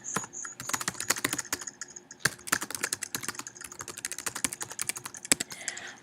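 Rapid typing on a computer keyboard, a steady close stream of light plastic key clicks with uneven rhythm and occasional short pauses, heard alone.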